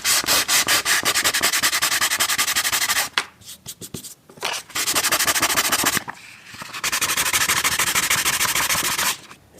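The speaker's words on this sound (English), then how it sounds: "what I'm gonna do is just sand it down a little" Hand sanding of a scratched wooden stair tread, with loud, steady rasping strokes that run in long bursts, break off briefly around the middle, then resume close up.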